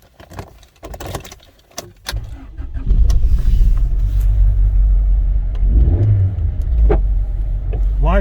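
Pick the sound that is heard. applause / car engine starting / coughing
car engine starting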